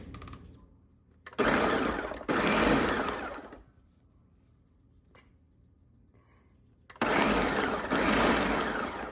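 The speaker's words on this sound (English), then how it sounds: "I always pulse things first just to allow everything to get in there and not force the blender" A blender pulses onions in two short bursts, pauses, then pulses twice more. The motor is loud and close, and the gaps between bursts are quiet.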